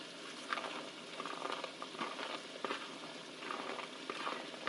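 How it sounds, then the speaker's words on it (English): Fresh corn cut from three cobs hitting a hot pan with browning chicken and onion soup mix, giving a faint, steady sizzle and crackle with soft patter throughout and no talking. "And this is when I add my corn."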